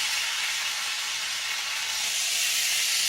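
A roast beef sears in a hot pan, a loud, steady sizzle and hiss that stays close and unbroken from start to finish.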